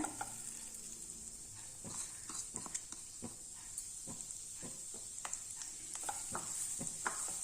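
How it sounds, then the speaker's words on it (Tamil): Grated coconut dry-roasting in a pan while a spatula stirs and scrapes it, a soft steady hiss broken by repeated scraping strokes, close and without talk. "இந்த தேங்காவை நல்லா வறுத்துக்கலாம் ரொம்ப செவக்க வறுக்கணும் அவசியம் இல்லை"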